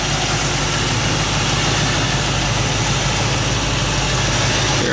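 A 1970 Mach 1 with a 351 Cleveland V8 and full exhaust run out the back idles steadily up close, a loud, even, throbbing rumble that continues unbroken with no talk over it.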